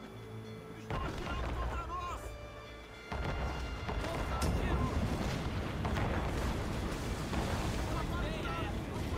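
Ship cannons firing in Assassin's Creed Rogue, deep booming blasts over rumbling sea and ship noise in the game's naval combat, with a brief spoken line in Portuguese near the start.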